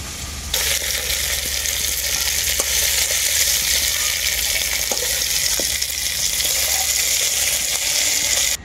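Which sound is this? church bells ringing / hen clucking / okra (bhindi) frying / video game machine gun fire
okra (bhindi) frying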